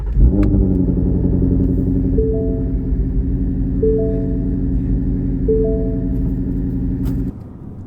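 Ford Shelby GT350 engine running loud and close, a deep steady rumble with rising rev notes and gear changes, then cutting off near the end.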